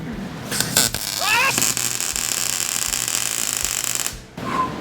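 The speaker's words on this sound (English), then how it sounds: "Now we're welding the plug in." A welder fuses a plug weld into the body of a Plymouth Colt Vista turbo wagon, making a close, harsh, steady crackling buzz for about three seconds that stops abruptly, with brief shop noise before and after.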